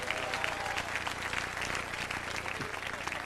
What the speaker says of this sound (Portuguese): Aplauda ao Senhor com alegria nesta noite.